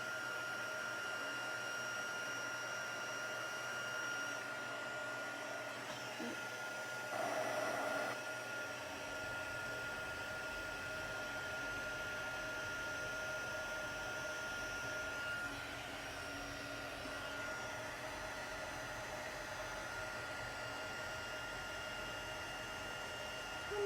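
A heat embossing tool blows hot air onto a stamped card. It gives a steady, close whirring hiss with no break, fairly quiet.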